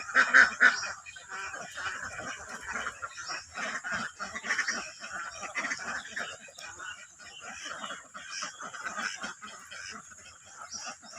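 Farm ducks, including drakes, quack and honk in repeated nasal bursts, loud at first and then continuing in an uneven, chattering chorus, with a voice speaking now and then.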